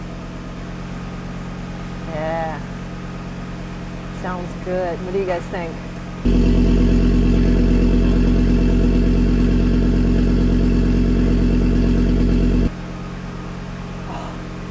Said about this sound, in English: Hear the exhaust now?